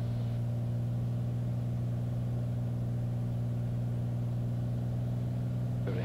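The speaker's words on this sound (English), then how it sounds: "We're landing, 3 green." Steady engine drone inside a small airplane cabin on an IFR flight from Bellingham to Bremerton as it lands on the runway, a constant loud low hum with no voices.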